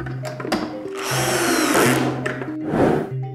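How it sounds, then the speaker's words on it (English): A power screwdriver drives screws into an outdoor antenna enclosure, giving short whirring bursts with pauses and clicks between them, close and fairly loud. "Now it's time to assemble the enclosure back and screw the four included screws."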